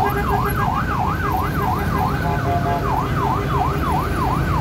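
Ambulance siren wailing in a steady rising-and-falling cycle near a bus terminal, over a dense rumble of traffic and idling engines, loud and continuous throughout.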